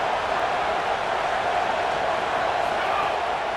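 A college football stadium crowd at a Kansas State versus Iowa game, a dense, constant roar of many voices that holds steady throughout.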